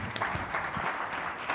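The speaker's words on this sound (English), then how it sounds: "Wow, this really deserves a big round of applause." A conference audience breaks into a short, even round of applause, moderately loud and continuous for just over a second, with faint scattered voices underneath.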